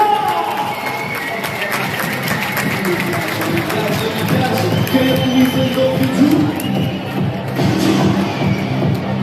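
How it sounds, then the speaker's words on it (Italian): A crowd at an under-14 boys' final cheers, shouts and applauds the young players in a dense, sustained roar that swells toward the end, with voices mixed in throughout. "facciamo un bel applauso a tutti questi ragazzi, tutti insieme, forza!"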